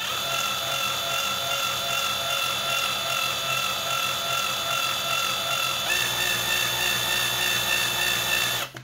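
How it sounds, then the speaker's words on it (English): A power drill bores into the rivet of a plastic toy car with a steady, close, whining buzz that holds for several seconds, dips in pitch partway through, and then stops at the end. "You'll see it's starting to drill into the rivet."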